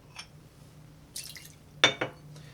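Lime juice poured from a jigger into a cocktail of agave syrup, curacao and bitters, heard as a few quiet, brief liquid splashes and a small clink in a hushed room.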